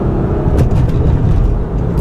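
A 2015 Jeep Cherokee Trailhawk 4x4 crossing railroad tracks, heard from inside as loud continuous road and engine rumble with low thumping from the tires over the rails.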